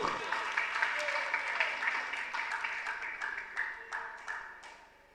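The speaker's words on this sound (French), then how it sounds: "On applaudit pour ce joueur" An audience at a school quiz contest between two colleges applauds a player, a moderate wash of clapping that continues throughout and begins to taper at the close.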